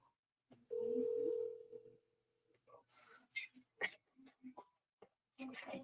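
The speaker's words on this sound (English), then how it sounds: "the phone hung up" A steady telephone dial tone after a call hangs up, holding continuously for about two seconds before cutting off, followed by close speech.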